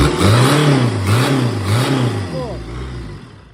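A Mercedes OM601 2.3 turbo diesel engine revs up and down in a few rising and falling surges, loud and close, then settles back toward idle as the sound fades.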